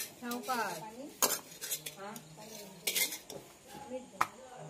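Puran poli filling being stirred and fried in a pan, with metal utensil clinks and scrapes against the pan and a few sharp knocks, while someone talks over it.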